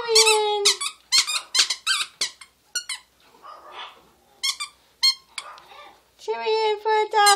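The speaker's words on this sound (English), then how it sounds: "Here's the squeaker." Squeaker inside a dog toy squeaks repeatedly in short bursts, sharp and close, with brief pauses between squeezes and a little quieter rustling in the gaps.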